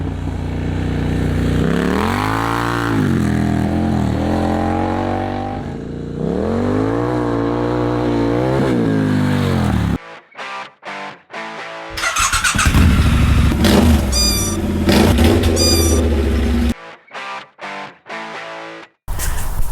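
Triumph Scrambler motorcycle with an aftermarket exhaust, loud and close, rising and falling through a series of revs, then short sharp throttle blips separated by brief gaps, with a louder sustained rev in the middle.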